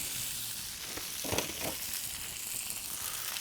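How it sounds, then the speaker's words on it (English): Sesame-oiled noodles sizzle steadily in a hot frying pan during a stir fry, a soft continuous hiss with a few brief louder crackles as they are tossed. "Now, stir frying it like this, it means that we're cooking off any residual moisture"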